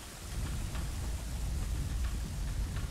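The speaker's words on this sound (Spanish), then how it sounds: "está lloviendo a cántaros" Heavy rain pours steadily in the PS2 game God of War, a dense continuous hiss with low rumbling, loud and alone.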